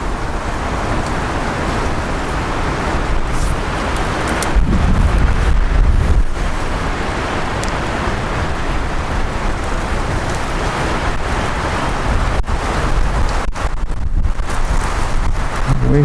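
Wind blowing outdoors along a switchback hiking trail at Pickle Springs, a steady broadband rush with gusty swells throughout, alone with no talk.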